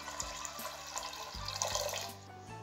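Faint pouring water splashes into a metal pressure cooker with peas, with light clinks and drips, fairly quiet and close.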